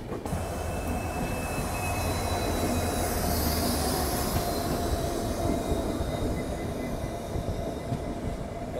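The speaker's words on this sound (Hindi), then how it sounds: "अभी हमारी ट्रेन पहुंचने वाली है मिरज जंक्शन" A diesel-route passenger train pulling into Miraj Junction, a loud continuous rumble of wheels on rails with steady rattling and a high metallic squeal running through it, heard close from on board.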